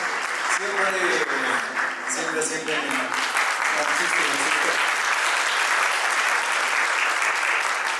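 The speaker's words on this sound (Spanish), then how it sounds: "Vamos a darle un fuerte aplauso, por favor." A crowd gives sustained applause, a dense wash of clapping with a voice speaking over it at the start.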